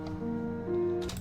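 A sustained Omnisphere synthesizer layer holds steady tonal notes, smooth and continuous, with a brighter shimmer entering near the end.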